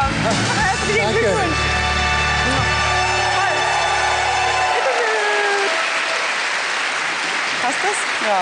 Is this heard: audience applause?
yes